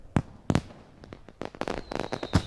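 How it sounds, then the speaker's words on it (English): Fireworks exploding in a series of sharp, loud bangs and crackles, several bursts spaced irregularly with fainter pops and a brief whistle between them, growing denser toward the end. "Oh, these fireworks are magical."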